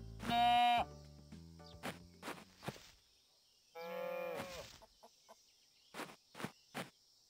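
Cows mooing in the farming video game Fields of Mistria, several drawn-out moos with shorter calls between, a long low moo opening and another midway, followed by brief clipped calls, crisp and close with quiet gaps.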